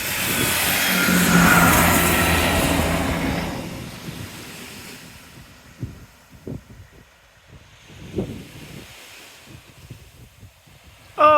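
A train rumbles past along a seaside seawall, its broad roar swelling close by and then fading into a distant rumble with surf and wind in the background, ending on a brief bright squeal.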